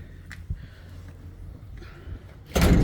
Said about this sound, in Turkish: Yunus kapıyı kapat